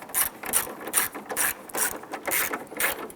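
Ratchet tightening the fasteners on a 1995-2001 Ford Explorer corner turn signal light, a close, crisp series of evenly spaced clicking strokes, about seven in quick succession, with no voice.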